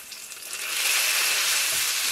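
Noodles hitting a hot wok coated with scallion sesame oil for ginger scallion noodles, a steady close sizzle that swells within the first second and holds loud and even, with no talking.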